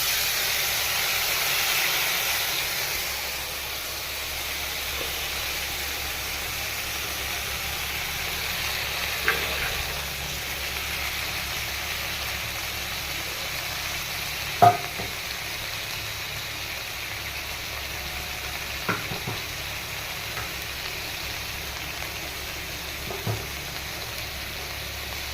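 Spice paste with a splash of water fries in a pan for a pomfret curry, a steady quiet sizzle and hiss running throughout, broken by a few soft clinks of a utensil.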